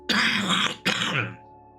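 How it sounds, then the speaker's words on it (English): A man clears his throat roughly twice in a row, close and fairly quiet, each rasping burst lasting about half a second, with silence after. "Excuse me, I'm gonna cough."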